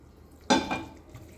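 A utensil mixing fried onion into biryani masala in a pot: a single short, close scrape and clink, then quiet.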